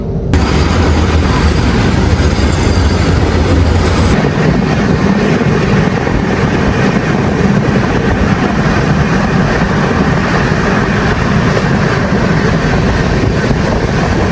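Howrah Pune Duronto Express running late through Chhattisgarh, with a loud, steady rumble and wind roar from inside the moving train continuing unbroken throughout.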